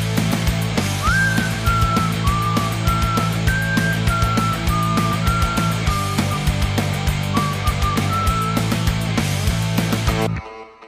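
A whistled melody of short sliding notes plays loud and up close over a dense, steady music track, the phrases repeating in a regular rhythm before everything cuts off abruptly near the end.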